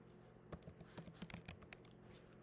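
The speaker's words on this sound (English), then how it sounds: "I'm just going to type in Etsy." Quick, light keystrokes clatter on a computer keyboard in a short burst of typing, faint and close, with no talking.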